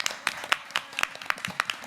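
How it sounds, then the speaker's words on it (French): Scattered claps from a small audience at a casino restaurant dinner show, a dozen or so sharp hand strikes in an uneven rhythm, fairly close and moderately loud. "qu'on applaudit bien fort s'il vous plaît"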